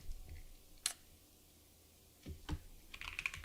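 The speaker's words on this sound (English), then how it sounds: "Oh wait, maybe it's because I'm like typing" Typing on a computer keyboard: a few sharp isolated key clicks, then a short quick burst of keystrokes near the end, close and quiet in a still room.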